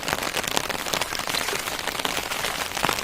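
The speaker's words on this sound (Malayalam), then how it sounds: "ആ സൂപ്പർ കേട്ടാ, നല്ല മഴ നോക്കി" Heavy evening rain pours down in a constant dense hiss, with sharper drops striking nearby surfaces scattered through it, and no voices.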